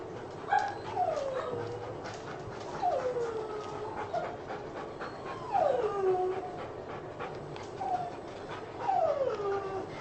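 A puppy whimpers and whines in a series of high, descending cries, several distinct whines spaced a few seconds apart over soft background noise, close to the microphone.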